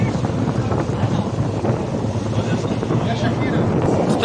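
A boat ride on the sea off Giftun Island near Hurghada, Egypt, with steady engine drone and heavy wind buffeting the microphone throughout, loud and continuous.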